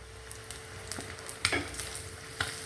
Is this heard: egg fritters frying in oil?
yes